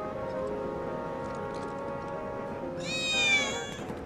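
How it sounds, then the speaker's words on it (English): A cat meows once in Final Fantasy 7 Remake's Lost Friends side quest, a short rising meow over a steady game ambience with low hum and tones, near and clear. "I swear I just heard a cat"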